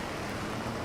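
Steady rain hisses down in New York City on a rainy day, a dense, even wash of falling drops with no talking.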